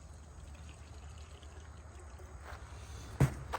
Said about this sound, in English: So what I'm going to do is I'm going to pour some distilled inside.